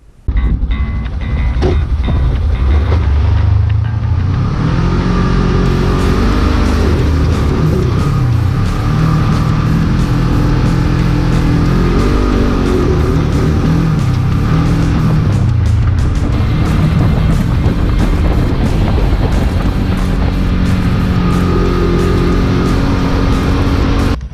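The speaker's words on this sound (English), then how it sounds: "today we're gonna be driving the bad beast of a thing, the General, out in the snow" A Polaris General side-by-side utility vehicle drives through snow, its engine droning loud and steady close by for the whole stretch, with rumbling, rattling chassis noise and shifting engine pitch as it moves.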